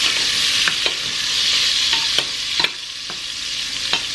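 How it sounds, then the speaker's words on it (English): Food is stirred around in a hot pan, a steady bright sizzle broken by several quick scraping strokes of the utensil, close and without talk. "And just kind of stir them around in there."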